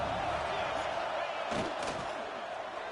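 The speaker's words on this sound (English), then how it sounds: "And here comes the noise. This crowd is trying to inspire this defense to make a big red zone stop." Roaring stadium crowd at a Michigan vs Ohio State college football game, a dense sustained wall of noise as fans urge on the defense before a red zone stop.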